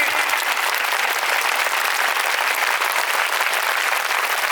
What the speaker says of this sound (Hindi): आज की इस बिशप ऑर्डिनेशन में ताली बजाएं, जोरदार 60 सेकंड के लिए बनाएं